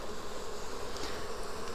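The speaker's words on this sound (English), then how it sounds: "These bees have been accepting of my intrusion, but they are a bit annoyed about it" Honey bees buzz at an open hive, annoyed by the intrusion, a dense continuous swarm drone filling the air close up without pause.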